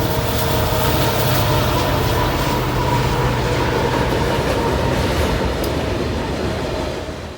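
A freight train led by several diesel locomotives, including an SD70MAC and GE Evolution units, rolls past near a bridge in Willmar, Minnesota, a loud continuous rumble of engines and wheels that stays steady then begins to fade.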